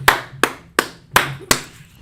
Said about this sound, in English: Clap it up in the class right there.